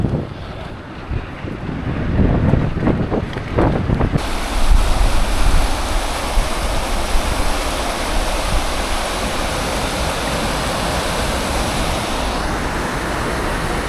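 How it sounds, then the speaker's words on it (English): A standing wave on a fast-flowing river in Munich roars steadily, a dense continuous rush of turbulent water with some wind buffeting the microphone, loud and unbroken throughout. "I was going to go and see next, basically, was a standing wave."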